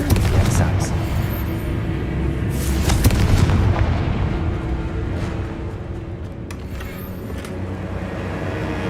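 Confringo fire-blast spell in the video game Hogwarts Legacy: heavy booming explosive impacts layered with crackling debris, loud and close, with sharper cracks around a few moments and a continuous rumbling bed throughout.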